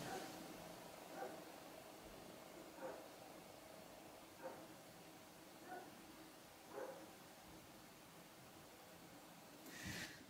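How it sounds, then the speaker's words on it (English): A dog barks faintly in the distance, single barks spaced about every one to two seconds, under a quiet background. "Hear the dog."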